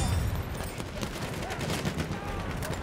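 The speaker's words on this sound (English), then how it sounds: "Feindliches MG!" Dense, continuous machine gun fire and distant battle din in the World War I shooter Battlefield 1, rapid overlapping bursts at a steady loudness with no clear pauses.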